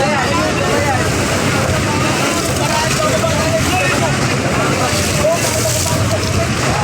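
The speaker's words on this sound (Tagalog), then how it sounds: "Ayan o, sinasalpok pa ng alon mga kapising." Waves slapping against a small boat at sea on Manila Bay, a constant rough wash of water and wind noise close to the microphone, with a voice talking over it.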